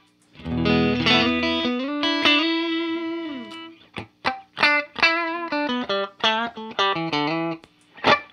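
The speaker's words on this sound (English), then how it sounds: "It's like a boost with a little bit of gain in it" An electric guitar played through an Analogman Prince of Tone boost pedal set with a little gain, pushing the amp into mild overdrive: sustained chords ring out, then a run of short, punchy picked notes and stabs, loud and close with no talking.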